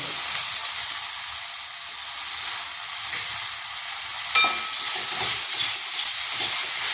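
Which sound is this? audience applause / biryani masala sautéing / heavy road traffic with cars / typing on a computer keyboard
biryani masala sautéing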